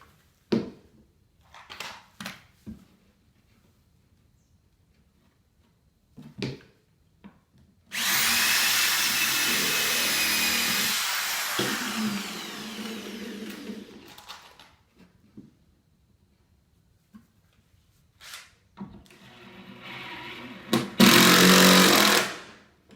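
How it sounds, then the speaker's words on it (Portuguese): A drill bores a hole and then a screw is driven into wooden concrete formwork, a loud sustained whir lasting several seconds, later a shorter burst of driving; scattered knocks and faint bird calls come between the bursts. "Então, primeiro furo e depois coloco o parafuso."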